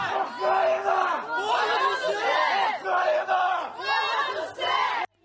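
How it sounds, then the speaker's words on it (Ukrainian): A crowd outside a hospital shouts and cheers in excited bursts as buses bring home freed prisoners of war from an exchange, many voices overlapping loudly before cutting off abruptly. "Натовп кричить та вітає одне одне."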